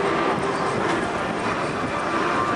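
An F-86 Sabre and a P-51 Mustang dive toward the aerobatic box at an airshow, making a loud, sustained roar of engines and rushing air with a faint steady tone and no talking.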